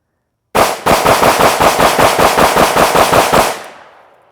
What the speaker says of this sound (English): there's 15 rounds this time through the SIG P320